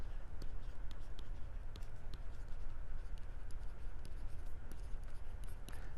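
Marker or chalk writing an equation on a board: soft, faint scratchy strokes with small tapping accents, irregular and close, with quiet room ambience beneath.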